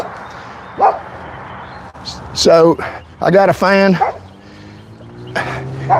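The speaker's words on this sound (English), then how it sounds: "Dogs can't clap, so they bark." A dog barks in short bursts of yips close by, with someone speaking briefly before the barks.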